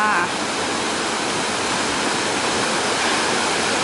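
Lan Sadet waterfall in Chiang Mai, a dense, loud, unbroken roar of falling water heard up close.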